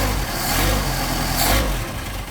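A Mercedes 190SL engine running cold on Solex 44PHH carburetors gives a steady, dense mechanical drone at a constant level, close by and continuous, with no speech.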